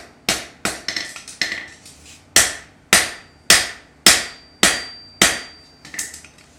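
A hammer strikes a shoe repeatedly to flatten it, about ten sharp, ringing metallic blows at an uneven, deliberate pace, close and loud with quiet gaps between.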